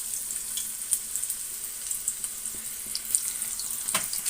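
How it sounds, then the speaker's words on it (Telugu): Stuffed bitter gourds fry in hot oil, giving a steady, close sizzle with scattered soft pops and crackles throughout. "కాకరకాయలు వేస్తాం కదండి బాగా ఏగనిద్దాం నూనెలో"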